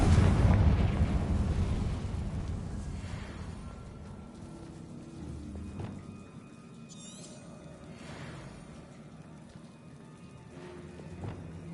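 Confringo fire spell explosion in Hogwarts Legacy: a heavy booming blast up front that rumbles and decays into a long crackling, hissing tail with faint game effects, no speech.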